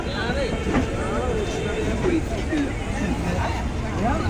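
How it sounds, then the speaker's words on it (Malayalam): The Duronto Express pulls out of Hazrat Nizamuddin railway station bound for Mangaluru, a steady rolling rumble with rattling carriages under a constant babble of nearby passengers' voices. "ട്രെയിൻ ഹസ്രത്ത് നിസാമുദ്ദീൻ റെയിൽവേ സ്റ്റേഷനിൽ ഡിപ്പാർട്ട് ചെയ്തു"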